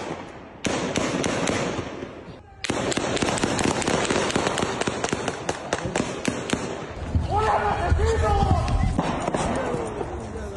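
Gunfire during a raid at a Cruz Azul cement plant in Tula, Hidalgo: a rapid, dense string of sharp cracks with a brief pause, loud and ongoing, mixed with shouting voices.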